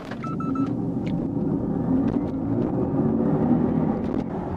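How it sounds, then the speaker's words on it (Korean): A Mercedes-AMG EQS 53 4Matic+ electric sedan in race-start launch mode accelerates hard, a loud steady road rumble and rising whine building over several seconds without a pause. "레이스 스타트 모드에서 아주 쉽게 짧은 구간에서 시속 100km 터치하고 있습니다"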